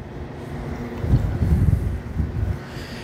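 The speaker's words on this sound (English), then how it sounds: "It is very windy today" Low, rumbling wind buffets the microphone in uneven gusts outdoors beside a Heartland Big Country fifth-wheel RV, strongest in the middle, with a steady muffled roar underneath.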